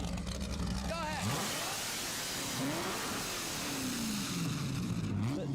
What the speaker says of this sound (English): The straight pipe Ford GT40.